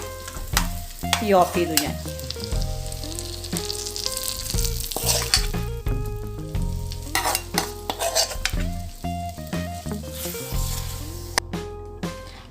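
Hot chili powder tempering hits a dried shrimp, jackfruit seed and mango curry with a sizzle, followed by clinking and scraping of utensils against the pot; a brief voice speaks near the end.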